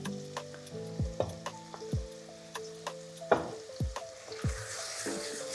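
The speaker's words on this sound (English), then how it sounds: "So we're adding these boiled vegetables in here." Boiled vegetables for a three bean salad sizzle in a hot pan while being stirred, with repeated sharp scraping and clinking strokes roughly every second over a steady frying hiss.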